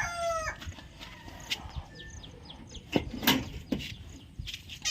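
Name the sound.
country chickens clucking in a shed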